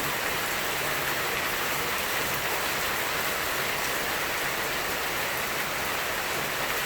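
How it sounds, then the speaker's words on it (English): Heavy rain pours in a dense, unbroken hiss, spattering steadily on surfaces with no letup. "because the rain is pouring."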